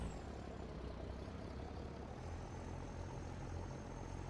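A truck engine drones steadily while driving in a realistic farming game, a low, even rumble that stays faint and unbroken, with no talking.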